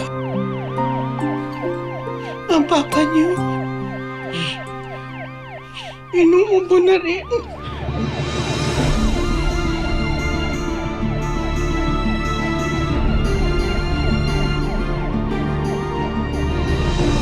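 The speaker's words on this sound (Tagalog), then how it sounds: "Okay na yung ambulansya." An ambulance siren wails in repeating rising and falling sweeps, loud and close, with people talking briefly over it.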